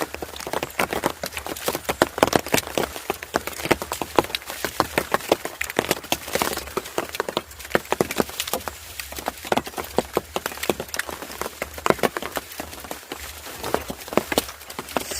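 Drizzle patters on a garden hut during an all-day rain, a dense stream of irregular taps and drops close by that keeps on with no talk.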